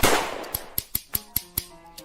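Gunshots in a Western saloon video game duel: a sharp opening blast followed by a string of six evenly spaced, crisp, metallic shots that ring briefly, close and moderately loud.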